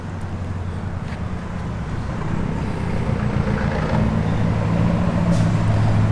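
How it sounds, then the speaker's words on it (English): A 1983 Oldsmobile Hurst/Olds with a Flowmaster dual exhaust idling and running, a steady deep rumble that grows slightly louder over time amid some wind noise, with no talking. "He's also upgraded the exhaust. It's got a Flowmaster dual exhaust, so it's got a little better sound."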